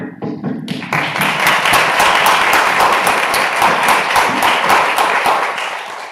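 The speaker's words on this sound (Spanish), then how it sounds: "quería darte un aplauso." Audience applause swells in after a few brief sounds and continues loud and even, many hands clapping together for several seconds.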